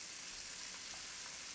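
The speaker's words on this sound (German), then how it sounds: "und dann die andere Seite auch anbraten." Fresh bratwurst sizzles and fries in a pan alongside bacon, a steady close hiss of crackling fat with no talking.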